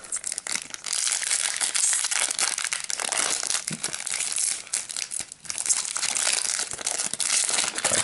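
Crinkling, crumpling plastic wrap and cardboard as a Yu-Gi-Oh! Flames of Destruction booster box is torn open, continuous rustling and crackling up close for several seconds with a brief lull midway.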